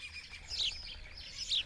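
Spanish sparrows nesting in cracks in old walls give two short, bright chirping bursts, fairly close and clear over a quiet background.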